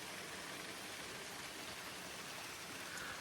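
Steady rain falling at a village home in Malvan, a soft, even broadband hiss lasting throughout, fairly quiet and with no talking.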